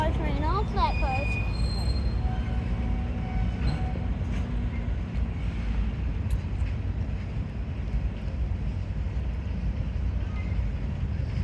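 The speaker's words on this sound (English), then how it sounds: "There's the train." A long flat-car freight train rolls past on the tracks, a steady loud rumble of wheels and cars with brief squealing near the start and a voice talking over it.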